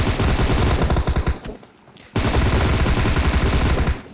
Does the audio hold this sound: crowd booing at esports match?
no